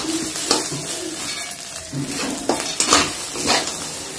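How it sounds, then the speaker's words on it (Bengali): Rice fries in a pan for veg pulao, with a soft continuous sizzle under repeated close scrapes and clinks of a spoon stirring the grains. "চাল একবারে ঝরঝরে ভাজা হয়ে গেছে"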